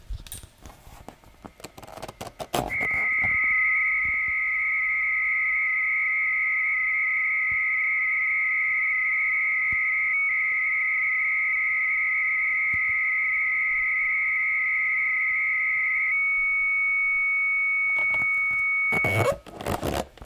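A Novation CAT acoustic coupler modem receiving data: a steady high-pitched carrier tone holds for about sixteen seconds, with a second lower tone beneath, bracketed by brief noisy handling sounds.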